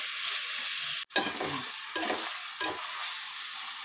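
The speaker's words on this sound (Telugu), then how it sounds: "చికెన్ అయితే ఫ్రై చేస్తున్నాను, మంచి స్పైసీగా చేస్తున్నాను అన్నమాట." Spicy chicken pieces fry in a pan for a biryani gravy, giving a steady loud sizzle broken by several stirring scrapes and one brief drop in the hiss, with no talking.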